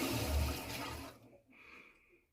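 Water rushes into an anti-limescale filter housing as the plumbing circuit is repressurized, a loud steady gush that drops to a quieter hiss with a faint high whine.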